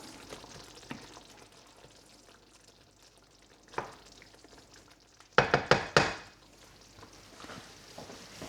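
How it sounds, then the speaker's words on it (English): Meat curry for bunny chow is stirred in a pot: a quiet simmer, then a cluster of sharp, close scrapes and clinks near the end. "let's give this a little stir"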